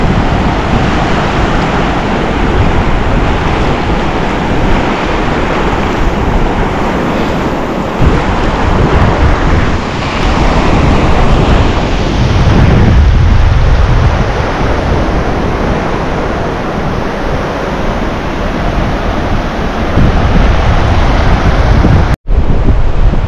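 Ocean waves roll onto Gokarna beach in the evening, with constant loud surf and heavy wind buffeting the microphone and no voices.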